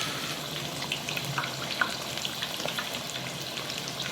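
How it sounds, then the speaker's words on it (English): Green chillies stuffed with pork deep fry in hot oil, giving a soft, even bubbling sizzle that runs quietly and continuously with occasional small pops, no voices. "Let's deep fry this for about 5 to 10 minutes."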